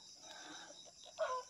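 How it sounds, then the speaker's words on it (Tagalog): Pet chickens cluck near an elderly woman's rural farmhouse, giving a short clucking call near the end over steady background hiss. The sound is faint and set some distance away, and no one speaks. "At may mga alaga siyang mga manok."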